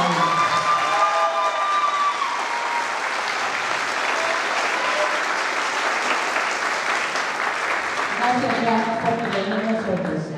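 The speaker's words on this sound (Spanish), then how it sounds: "un aplauso muy grande para ella" Audience applause at a graduation ceremony, a dense sustained clapping from a large crowd filling the whole stretch, with a voice speaking and tonal music-like lines faintly over it at the start and end.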